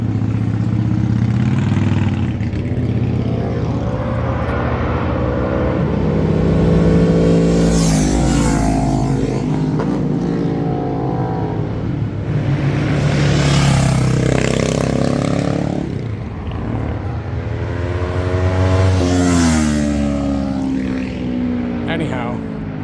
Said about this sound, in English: Let me wait until these bikes pass.